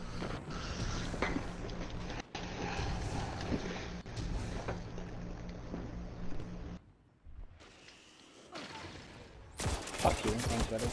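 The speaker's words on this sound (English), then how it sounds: "All the fucking fusion rifles." Fusion rifles firing during a competitive shooter match, heard as dense overlapping bursts and crackling blasts under a steady low drone, with a brief lull near the end before another loud burst.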